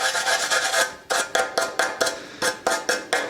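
Die grinder working an aluminum car wheel, a close, loud rasping grind in a long opening pass and then about nine short bursts with brief pauses between them.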